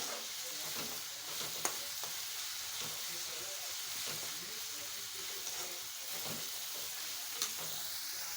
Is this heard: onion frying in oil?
yes